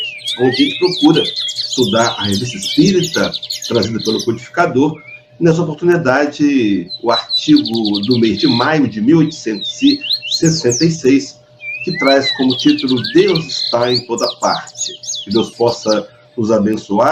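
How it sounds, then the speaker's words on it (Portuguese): Birds chirp and sing steadily throughout, a bright high twittering running under someone speaking continuously on a radio program. "estamos ouvindo os pássaros cantando"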